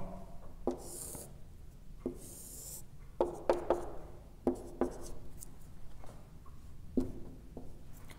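Pencil or pen strokes scratch across paper as a graph is sketched by hand, a series of short, quiet scribbles and rubs spaced irregularly with pauses between, close up and alone without talk.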